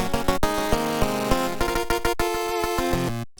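Bright square-wave 8-bit chiptune lead channels play a quick melody, one centered with left and right delay echoes repeating the notes, loud and steady before cutting off abruptly at the end.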